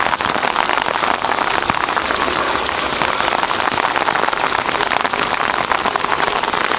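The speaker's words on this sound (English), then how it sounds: "I'm kind of slightly trapped in the rain." Heavy rain pours steadily during a thunderstorm amid flooding, a loud, dense hiss of drops hitting surfaces that fills the whole stretch without letup.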